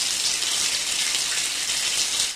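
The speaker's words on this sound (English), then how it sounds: "The two take showers in the locker rooms" Shower water running in a locker room, a steady, close hiss of spray and splashing that holds evenly for the whole stretch and then cuts off.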